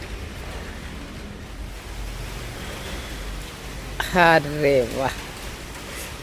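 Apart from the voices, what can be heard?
light rain drizzle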